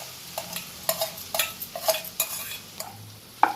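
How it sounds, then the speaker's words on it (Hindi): Cooked rice being stir-fried with Schezwan sauce for veg fried rice, a spatula scraping and tapping the pan in quick irregular strokes over a low sizzle, close and fairly loud. "अब डालेंगे इसमें पके हुए चावल।"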